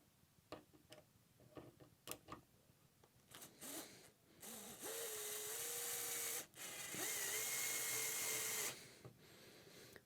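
A cordless drill drives a flat-head screw in a workshop, with a few sharp clicks and taps, then two loud sustained whirring runs of the motor separated by a brief pause, up close.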